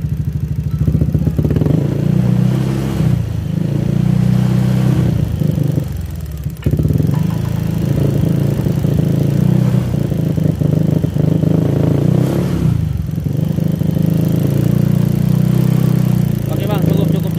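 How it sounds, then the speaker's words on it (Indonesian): A Honda Beat ESP scooter with an intermittent ignition fault revs in several loud, close bursts with short dips between them, engine roaring near the listener while people talk over it. "Coba digas dikit bang."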